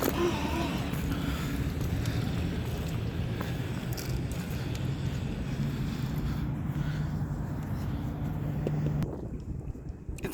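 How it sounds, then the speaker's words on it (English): Continuous wind buffeting the microphone, a rough steady rumble for about nine seconds before easing slightly near the end. "It's a bit windy, so you might be hearing some wind."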